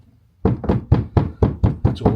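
Knuckles rap on a wall to locate studs before adding a power point: seven firm, close knocks in a steady, even rhythm, with no talking.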